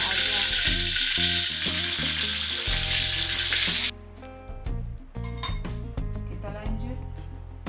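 Andaliman pepper fries in a pan for a Batak tilapia tombur dish, a bright sizzle under clinks of a utensil against the pan, while music plays underneath. The sizzle cuts off midway, and the stirring clinks and music continue.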